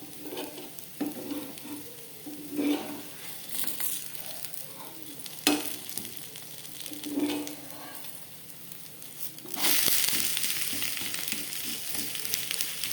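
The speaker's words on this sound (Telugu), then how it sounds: "మళ్ళీ మనం వేసుకున్న పచ్చిమిర్చి, ఆనియన్, జీలకర్ర అవన్నీ కూడా కొంచెం బాగా కాలాలి కనుక మనం దోశని ఇంకోవైపు టర్న్ చేసుకుందాం" Pesarattu, a green gram dosa topped with green chilli, onion and cumin, sizzles steadily on a hot pan, with brief scraping as it is turned, and the frying grows louder and brighter near the end.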